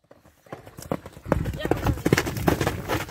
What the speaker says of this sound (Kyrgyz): Тез ат экен, тез ат.